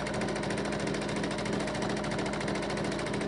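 A Santa Cruz sewing machine runs steadily and fast, its close, loud mechanical whir and rapid needle clatter continuing unbroken with no voices.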